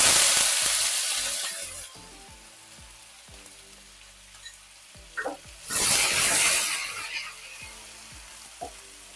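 Coconut paste hits hot oil with nigella seeds and a dry chilli, giving a bright sizzle that fades, then a second loud burst of frying as it is stirred, with scraping clicks of a utensil in the pan.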